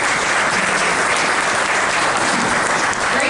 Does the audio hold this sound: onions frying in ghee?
no